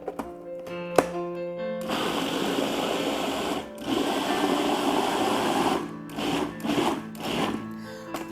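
Cuisinart food processor chopping vegetables, a steady loud whirring motor drone with a brief start and a short pause partway through, running alone without talk.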